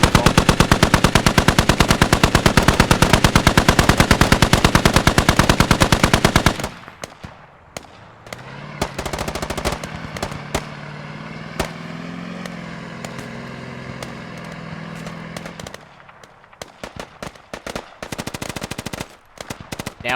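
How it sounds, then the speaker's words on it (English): A BTR armored vehicle's heavy machine gun fires a long, loud, rapid automatic burst in a video game battle, followed by quieter rumbling and scattered distant shots before further short bursts near the end. "I'm even trying to find out where that BTR is firing from."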